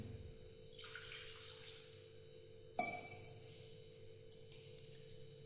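Water is poured into a tamarind mixture with curry leaves and salt for a home-cooked green tamarind rasam. A soft, brief splashing pour is followed by a single sharp clink of a vessel, then quiet dripping.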